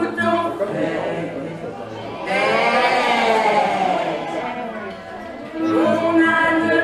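A group of singers imitates sheep in a French nursery rhyme performed live, with several wavering bleat-like voices that rise and fall in long, loud phrases over a murmuring crowd.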